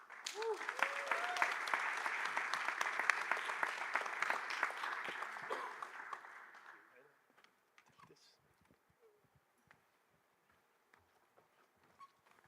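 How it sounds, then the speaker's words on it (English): Applause from a conference audience honouring the Hodl team at the Baltic Honeybadger 2024 event, a dense crowd clapping for about six seconds before it thins out into scattered claps and quiet room noise. "One more round of applause for the whole Hodl team"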